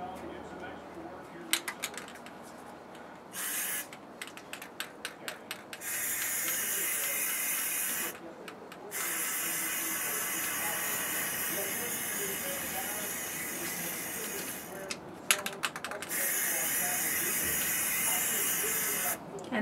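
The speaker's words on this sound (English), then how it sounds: "so now we're going to go ahead and spray paint" A spray gun hisses metallic paint in long sustained blasts onto a candle holder, broken by brief pauses and sputtering starts, loud and close, with a person talking in between.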